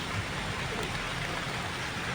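Rain falls outdoors as steady, dense broadband hiss, moderately loud and unbroken for the whole clip, with no clear voices.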